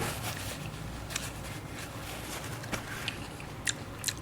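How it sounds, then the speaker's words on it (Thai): Someone chews fresh giant cockles near the microphone, soft wet mastication broken by a few small crisp crunches, quiet and without talk. "กรุบกรุบกรุบดีขนาดครับ"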